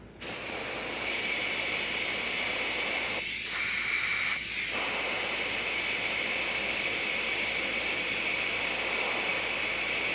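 Light spray of black base coat paint from a can onto a 1/4 scale custom Spiderman figure, a continuous soft hiss running almost the whole time with a brief break near the middle, no voices.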